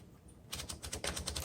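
A 1929 Underwood four-bank typewriter with wood grain finish clacks in a quick even run of about ten sharp mechanical taps as paper is fed in, close and fairly quiet, no voices.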